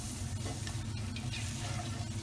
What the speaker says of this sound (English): we just want to very lightly saute this